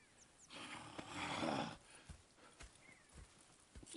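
Horse hooves clip-clop in the Red Dead Redemption 2 video game, a brief run of steps peaking early, then scattered single hoof falls with a soft snort, fairly quiet and without talk.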